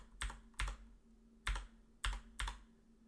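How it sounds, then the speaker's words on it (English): Keys clack on a computer keyboard as a Linux grep command is typed, five distinct close taps at uneven intervals over a quiet background with no talk. "Now we can either type the whole grep command"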